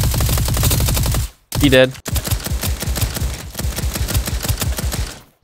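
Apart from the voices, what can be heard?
gunfire in Roblox Bedwars video game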